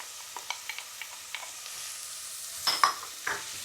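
Onions and carrots sizzle softly in a pan for a lentil bolognese, with light spoon taps and scrapes at first, then a louder clatter of stirring near the end.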